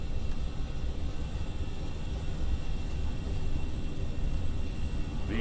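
An Austrian Airlines Airbus A319 on its takeoff roll at takeoff thrust, a steady, heavy engine roar and rumble heard from inside, continuous and even, with no talking.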